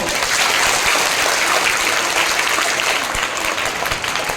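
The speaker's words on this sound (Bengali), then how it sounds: "আরেকবার জোরে হাততালি দাও।" Loud, sustained applause from a crowd at a girls' school annual program, a dense and even roar of clapping that holds steady throughout.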